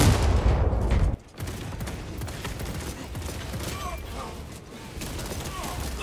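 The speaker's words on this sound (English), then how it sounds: "grenade out!" Gunfire and a grenade blast in the Warhammer Space Marine 2 video game: a heavy booming burst up front, then a busy stretch of rapid shots and mechanical clatter, with voices talking over the action.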